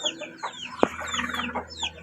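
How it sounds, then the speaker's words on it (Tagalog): Chickens cluck close by in a yard with two roosters among them, a busy overlapping series of short clucks and squawks with one sharp knock partway through. "Dalawang tandang."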